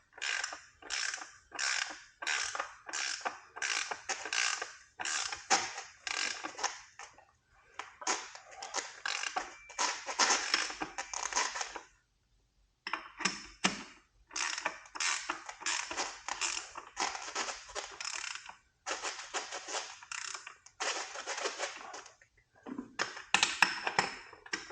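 Front wheel axle nuts on an Engwe EP2 Pro e-bike being tightened with a wrench, giving repeated short bursts of ratcheting, creaking metal clicks in quick runs with brief pauses between strokes, close and fairly loud.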